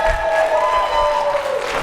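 An audience at a talk with a Pulitzer-winning author claps in a brief burst of continuous, fairly loud applause, with little distinct cheering.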